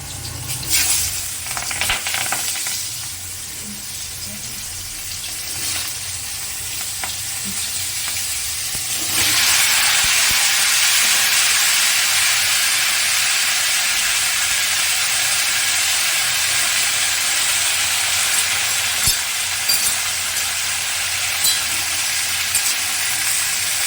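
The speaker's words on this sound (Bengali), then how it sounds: "পাঁচ ফোড়নটা হয়ে গেছে এবার আমি সবজিগুলো দিয়ে দিই" Mixed vegetables go into a pan of hot oil tempered with five-spice, setting off a crackling sizzle that swells into a loud, steady frying hiss after about nine seconds and continues to the end, with occasional stirring clatter.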